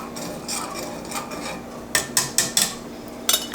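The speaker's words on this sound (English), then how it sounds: "I'm actually going to whisk it one more time" A whisk works through heated milk for homemade yogurt in a pot, first as a soft swish, then as a quick run of sharp metallic clinks against the sides, followed by a brief final tap.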